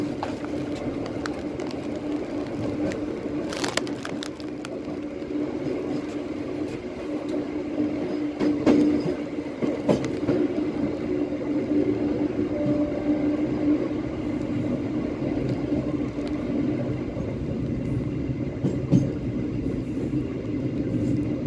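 A Bengawan passenger train runs on rails near Cirebon Prujakan station, a loud continuous rumble with rattling and scattered clacks and squeals throughout, with no voices.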